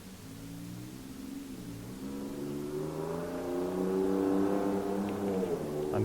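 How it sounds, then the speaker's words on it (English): A car engine running in a home garage, a low steady hum that swells as the revs climb, moderately loud and continuous with no voices. "so sorry about the car noise and stuff"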